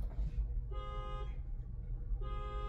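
Car horn honking outside, two sustained blasts separated by a short pause, moderately loud over low background rumble.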